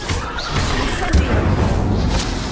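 A dense, roaring burst of the Incendio fire spell in Hogwarts Legacy, a steady crackling whoosh with low thuds underneath, loud and close throughout.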